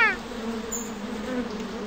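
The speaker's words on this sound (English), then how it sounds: "Listen to those bees buzzing." Bees buzzing steadily in the Curious George children's video game, a continuous droning hum that holds at an even level throughout with a brief chirpy cartoon sound at the start.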